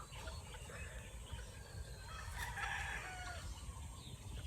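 A rooster crows once in the distance amid scattered clucking, over a quiet, steady background of low noise.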